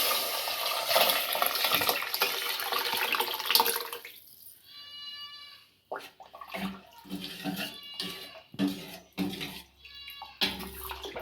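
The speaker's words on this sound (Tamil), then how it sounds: "இப்போ நம்ம கூட்டி வச்சுருக்க அந்த ரச கரைசெல்லாம் ஊற்றிக்குவோம்" Hotel-style pepper rasam liquid being poured into a pot: a steady, gushing pour for several seconds, followed by scattered splashes, clinks and softer trickles.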